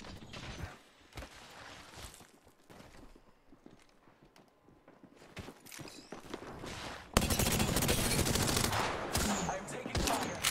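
Gunfire in the Apex Legends battle royale game, with scattered shots early on, then a sustained loud stretch of rapid automatic fire near the end amid game effects.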